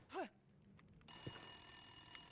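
A rotary phone rings inside the video game The Long Dark. After a brief faint wavering tone, a steady, continuous bell ring sets in about a second later and keeps going at an even level to the end.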